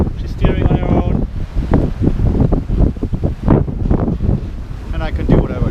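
Wind buffeting a microphone aboard the ExpresShuttle sailboat in under 10 knots of breeze, steady loud gusty rumble through the whole stretch, with a voice talking over it at times.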